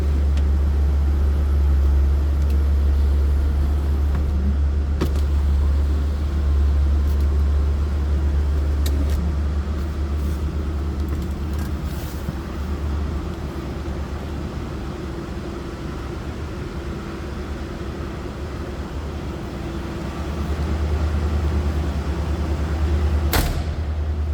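A 1978 Cadillac Eldorado Custom Biarritz with a 425 cubic inch V8 idles steadily, a deep continuous low rumble heard from close by for the whole stretch, with a few faint clicks on top and no talking.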